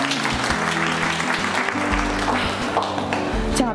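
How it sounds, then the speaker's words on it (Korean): Audience applause at a youth camp speech event, a steady wash of clapping that fills the whole stretch, with tonal music-like sounds running underneath. "박수!"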